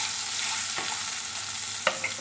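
Potato curry with salt frying in spiced oil in a pan, stirred through a continuous close sizzle, with a couple of sharper scraping knocks near the end and no speech.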